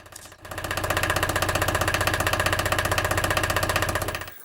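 A sailboat's inboard engine runs while antifreeze is flushed through its cooling system, a loud, steady pulsing chug with a rapid regular beat that starts up, holds evenly for several seconds and then cuts off, with no talk.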